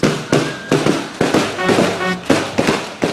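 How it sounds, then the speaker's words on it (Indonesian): A fireworks display celebrates the anniversary of an Islamic boarding school (pondok pesantren). Loud, close booming bursts go off about every half second, each with a crackling tail and no speech over them. "Dan pesta kembang api ini akan berlangsung selama 3 hari 3 malam."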